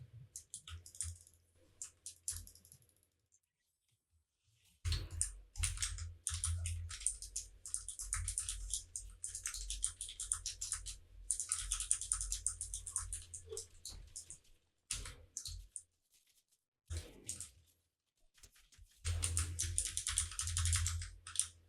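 A computer keyboard is typed on during a game of Fortnite, with quiet, close clicking in bursts, pauses between them and faint low rumbles.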